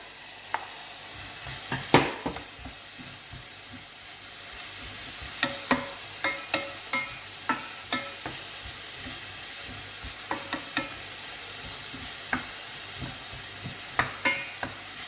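Leeks frying in a pan over high heat, with a steady sizzle and the intermittent clicks and scrapes of stirring.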